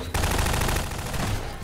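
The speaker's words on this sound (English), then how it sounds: "I hear gunfire." Rapid automatic gunfire in Garry's Mod Prop Hunt rattles continuously, loud and close, a dense burst of shots filling the whole moment.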